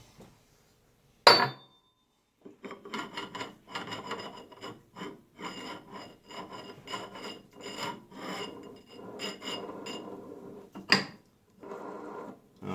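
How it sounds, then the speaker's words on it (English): A nut, washer and pulley are worked off a shaft: a sharp metallic clink, then a run of close scraping and rasping handling noises with small clinks, ending in another clank and a brief rustle, with no talk. "we'll go ahead and pull the nut off, and our washer, and our pulley."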